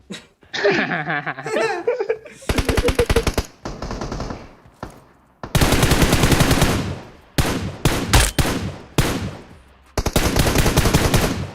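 Loud automatic gunfire in PUBG Mobile comes in repeated rapid bursts of varying length, separated by short pauses, with a brief shorter sound early on before the shooting begins.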